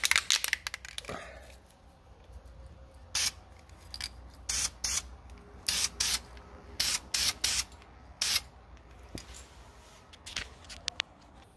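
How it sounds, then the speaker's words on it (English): Aerosol spray paint can used on car brakes of a Toyota JZX110, a series of short hissing bursts about a second each, repeated in irregular rhythm, close with faint rustling between sprays. "I did end up spraying a fair bit of everything else"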